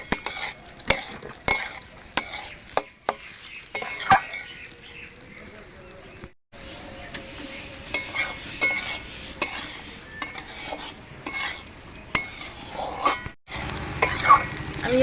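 Rice and potatoes frying in a pan, going into a Bengali muri ghonto with Gobindobhog rice and rohu fish head. A steady sizzle runs under repeated scrapes and clacks of a spoon against the pan, with two short silent breaks.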